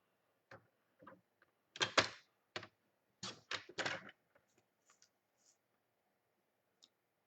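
Close, quiet snips and clicks of cutting paper for a mini album with envelopes come in short irregular clusters separated by near silence.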